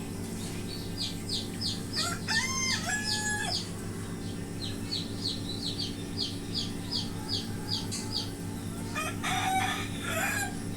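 Roosters and hens kept in cages at a small home poultry farm: a rooster crows twice, clearly and at moderate distance, over steady clucking and chirping with a constant low hum beneath.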